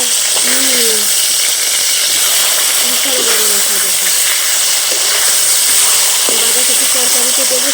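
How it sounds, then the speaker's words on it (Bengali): Fish heads frying in hot oil give a loud, continuous hiss and sizzle with a few faint tonal sounds in the background. "এখন মাথাগুলো ভেজে নেব"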